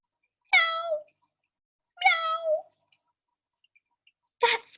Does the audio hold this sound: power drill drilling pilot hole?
no